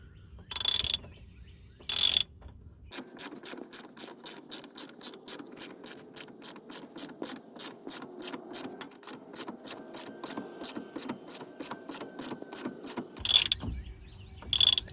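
A ball joint separator is ratcheted on the control arm of a 2003 Ford Explorer during upper ball joint replacement. A long run of rapid, evenly spaced metallic ratchet clicks is heard close up, framed by a few louder clacks at the start and end.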